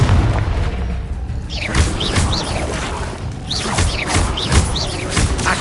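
Blasting Confringo spell explosions from a Harry Potter style video game, several booming crashes with sharp whooshing bursts spaced across the clip, loud and close with no talking.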